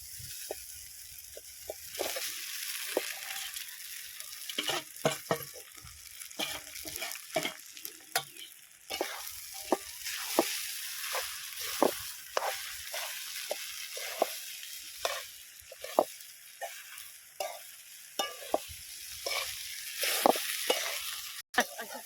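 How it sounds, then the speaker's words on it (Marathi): Sabudana (sago pearls) stirred and sautéed with potato and peanuts in a pan over an outdoor wood-fired chulha, giving a steady close sizzle broken by repeated scraping and clinking strokes of the spoon. "चांगली शाबू अशी परतवून घ्यायची"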